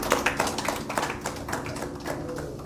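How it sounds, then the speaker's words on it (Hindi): Audience applause from a crowd at a yoga session, a dense steady patter of many hands clapping continuously throughout, moderately loud and close, with no voices over it. "जोरदार तालियां।"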